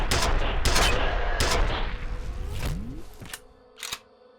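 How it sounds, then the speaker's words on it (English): Rapid gunfire bursts crack out in the first-person shooter F.E.A.R., several loud shots over a rumbling background, then fading to sparser distant reports. "I was trying to shoot the grenade with a well-placed shot"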